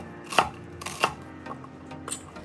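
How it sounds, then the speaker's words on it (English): Knife chopping an onion into small pieces on a board, with four or five distinct, sharp chops spaced irregularly, close and moderately loud over a quiet background. "Cut the onion into small pieces."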